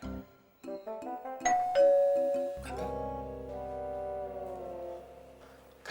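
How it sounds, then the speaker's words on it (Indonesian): A doorbell chimes indoors in a house, a clear two-tone ding-dong with ringing decay followed by a sustained melodic chime, loud and alone with no talking. "Kayaknya gue denger bel tuh."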